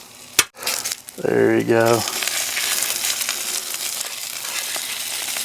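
Sausages laid down on an offset smoker griddle set up for breakfast cooking with bacon fat, giving a loud sustained sizzle that rises after a brief clank and continues steadily, with someone speaking briefly over the start.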